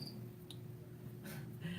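A phone's cricket-chirp message alert sounds in short, sparse bursts of chirps against a quiet indoor room hum.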